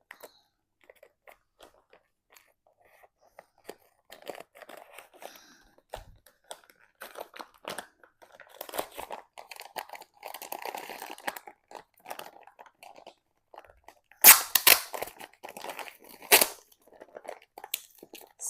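A strong plastic grocery packet from a supermarket haul is torn and crinkled open by hand, with faint scattered crackles that build into louder rips and crunches near the end, close by and without talk.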